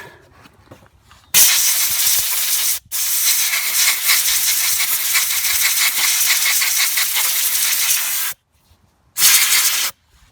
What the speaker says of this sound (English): but first compressed air